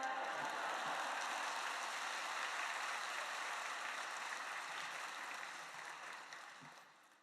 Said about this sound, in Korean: 큰 박수로 우리 선교사님을 맞이해 주시기 바랍니다